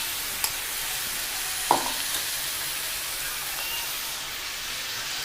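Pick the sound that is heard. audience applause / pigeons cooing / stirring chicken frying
stirring chicken frying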